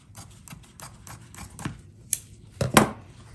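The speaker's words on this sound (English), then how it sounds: "So I'm just gonna take my scissors and cut very awkwardly." Scissors snipping through quilting fabric for a fussy-cut Dresden piece, a run of short crisp cuts and rustles ending in a couple of louder, sharper snips, close and alone.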